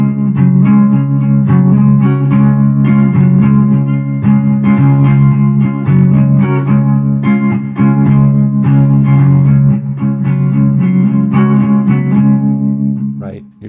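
An electric guitar runs through effects and strums a song's chord shapes, rocking back and forth between them in a steady rhythm, close and loud, with a sustained chord ringing out at the end.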